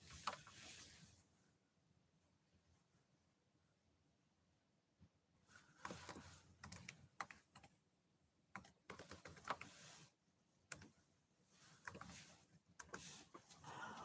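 Fingers type on a computer keyboard, faint at first and then in irregular bursts of clicks and taps over a quiet room.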